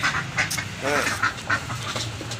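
Ducks quack in short bursts at close range, with chickens nearby, background voices and a low steady hum.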